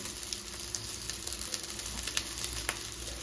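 Leftover cooked rice tipped into a pan with a fried egg sizzles steadily and softly, with small crackles and light stirring clicks throughout.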